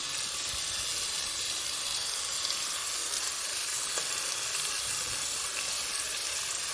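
Tomatoes and a ground coriander and green chili paste sautéing in a pan for coriander rice, giving a dense, steady hiss of sizzling close up with faint stirring underneath.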